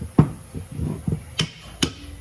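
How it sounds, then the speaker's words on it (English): A hammer smacks a brake caliper to knock the old pads loose on a 2008 GMC Acadia front brake job, a few sharp metallic knocks in quick succession, close and clear with no talk. "Just give it a smack, get these old pads out"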